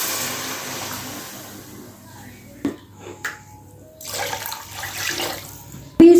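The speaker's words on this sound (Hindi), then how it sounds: "तो अभी हम इसमें डालेंगे 2 गिलास पानी।" Two glasses of water poured into a cooking pot of potato-and-semolina snack mixture, a splashing pour that fades, then brief clinks and a second gush of water, with a sharp knock at the end.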